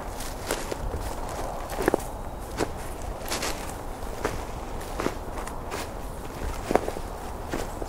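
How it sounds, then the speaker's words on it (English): Footsteps walk into a small woodlot during a winter Christmas bird count, each step a crisp, fairly close crunch in an even walking rhythm lasting about eight seconds, with no voices. "Stepping into a small woodlot now."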